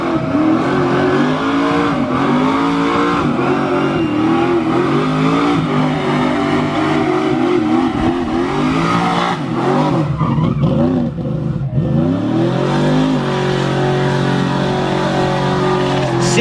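An LS3-swapped American muscle car revs hard during a burnout, its loud, continuous engine roar rising and falling with tire squeal, and the sound stays up close for the whole stretch.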